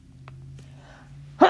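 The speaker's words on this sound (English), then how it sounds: "Excuse me, had to sneeze." A single sharp sneeze from a person bursts out abruptly at the end, preceded by a quiet room with faint breath sounds.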